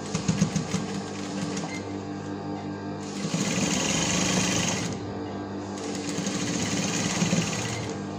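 A sewing machine stitches a homemade medical face mask, its motor whirring in a close, steady run with a few speed-ups and short pauses.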